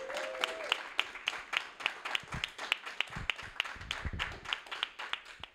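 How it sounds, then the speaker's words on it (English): Scattered clapping from a small crowd, uneven and sustained for several seconds, with a brief murmur of voices near the start. "Can we personally get a round of applause for all of CCRF's work?"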